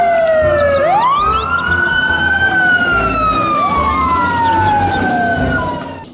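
A toy fire truck's electronic siren wails loudly and alone, sweeping up and down in repeated rising and falling tones with no talking.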